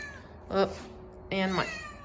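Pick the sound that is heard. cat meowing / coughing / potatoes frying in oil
cat meowing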